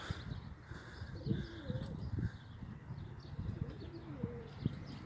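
A flock of Birmingham roller pigeons takes off and flies overhead outdoors, giving faint, scattered wing sounds and soft calls against a low background rumble.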